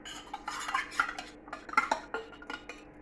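A spoon and a knife stir and scrape through thick homemade milk powder yoghurt in a container, producing close, light clinks and scrapes of metal in short, uneven strokes.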